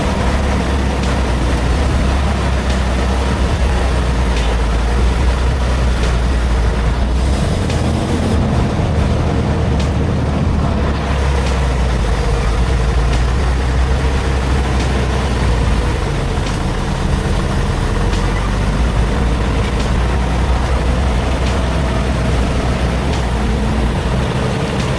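Truck engines labor and rumble steadily on a muddy Texas road as vehicles get stuck and struggle, a dense, loud low drone that holds for the whole stretch with no talking.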